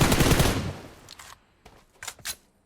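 PUBG Mobile gunfire opens with a dense burst of rapid shots that fades out, followed by a few sharper, scattered single shots and short bursts at moderate distance.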